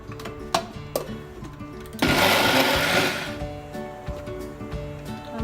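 A kitchen mixer grinder grinding onion into paste whirs loudly for about a second and a half, starting abruptly then winding down, amid clattering background noise.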